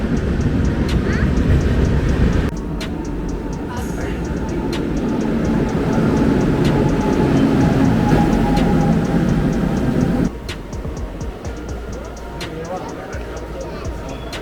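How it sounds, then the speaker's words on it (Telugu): A passenger train rumbles steadily through a station with a broad mechanical roar and rhythmic clacks, people talking over it; the noise drops suddenly near the end. "అది మన ట్రైన్. కొంతసేపే ఆగుతుంది, ఫాస్ట్గా ఎక్కేయాలి."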